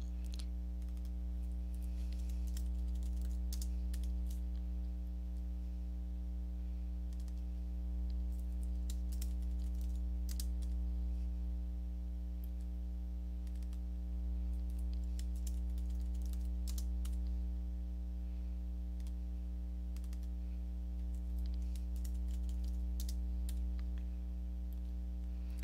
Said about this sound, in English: Type in what you'd like to change it to and click Save